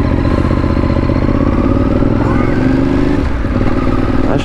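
A custom motorcycle's engine runs loud and steady close by, with a constant rumbling drone throughout and no clear rise in revs.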